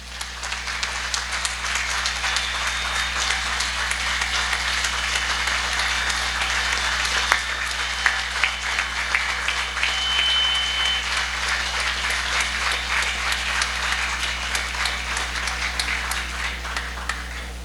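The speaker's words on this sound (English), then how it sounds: "Ladies and gentlemen, thank you very much for your kind applause" Applause from the audience at a school hall of fame ceremony, a steady wash of many hands clapping that continues evenly for the full span with no speech.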